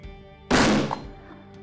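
A single close, loud gunshot during target shooting practice for driven wild boar hunting, a sharp crack with a brief ringing decay over quiet background hum.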